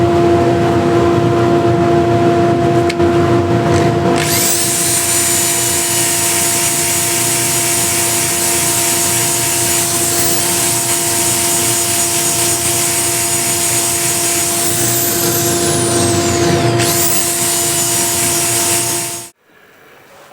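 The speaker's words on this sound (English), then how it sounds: "Put it back in the chuck so I can sand this with the drill." A power drill spins a wooden plate in its chuck while sandpaper rubs against it, a loud continuous abrasive hiss that runs for many seconds before the motor cuts off.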